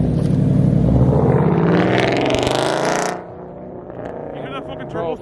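An Alfa Romeo Giulia with a turbocharged four-cylinder engine revs loudly at a car show, its turbo spooling up with a rising whine before the engine note cuts off, and people talk afterward.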